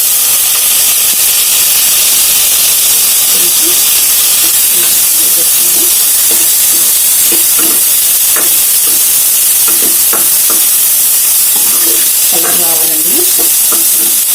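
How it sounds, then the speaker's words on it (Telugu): Coconut pieces and dry fruits fry in ghee with a steady, close sizzling hiss throughout, broken by occasional stirring clatters and soft bubbling pops. "కట్ చేసుకున్నాం కదా కొబ్బరి పీసులన్నీ కూడా వేసేసుకుంటాం"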